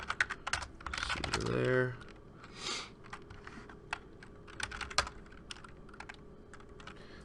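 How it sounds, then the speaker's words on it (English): Typing on a computer keyboard during a software install on Ubuntu 14.04, close, quick irregular key clicks in bursts, with a brief spoken phrase and a short tonal sound partway through. "Oh, I should actually type that correctly."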